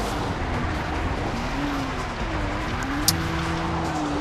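Car engine droning steadily in Far Cry 3 with a rising and falling pitch, tires faintly squealing and skidding, plus a brief sharp click near the end; no talking.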